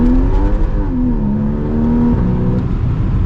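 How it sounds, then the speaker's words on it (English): A Porsche Boxster S 981 engine pulls hard under acceleration, a loud continuous rising drone that dips briefly and climbs again as revs build, heard close from inside the car with no talking. "This is just a Boxster S, and it sounds very, very nice. We're gonna get a little acceleration here."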